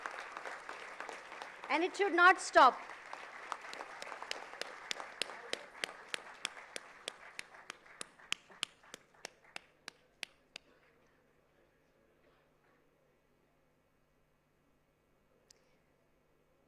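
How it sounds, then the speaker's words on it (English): A crowd at an institute foundation day awards ceremony claps, starting as a dense burst under a speaking voice, then thinning to a few slow, distinct claps that fade out into quiet. "Yes, guys, round of applause for your"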